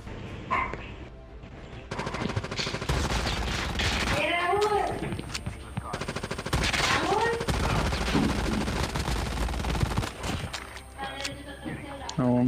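Loud, rapid bursts of gunfire in a shooter video game sound close by in repeated volleys, with a voice talking over part of the action.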